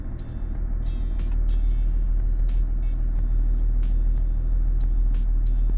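A Range Rover L322 lowers on its air suspension, a steady low hum from the running vehicle with a series of sharp hissing air bursts and clicks spaced through the sound, close and fairly loud.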